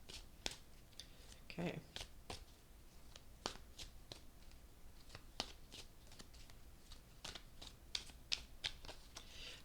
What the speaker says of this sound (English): A couple more shuffles here.